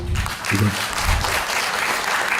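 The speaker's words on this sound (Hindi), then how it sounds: "आप मेरे लिए तालियां बजाइए" An audience at an international media event applauds a keynote speaker, a burst of loud, close clapping with a brief voice near the start.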